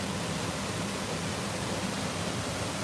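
Waterfall at the Kilimanjaro Safaris area of Disney's Animal Kingdom, heard as a steady, dense broadband rush of falling water that holds constant and fairly loud throughout, with no voices.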